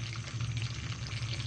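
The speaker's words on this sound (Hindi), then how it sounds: "सबसे पहले हम घी डालेंगे।" Ghee poured into a cooking pan for achar gosht, a steady wash of liquid pouring and faint sizzle over a low, constant kitchen hum, close and continuous.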